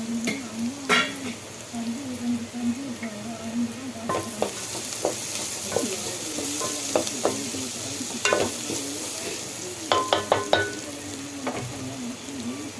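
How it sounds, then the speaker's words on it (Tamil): Curry leaves dropped into golden sautéed onions for a mutton kuzhambu, frying with a continuous sizzle and brisk spoon stirring and scraping against the pan, close and fairly loud. "நல்லா வதங்கிடுச்சு கருவேப்பில போட்டுக்கணும்"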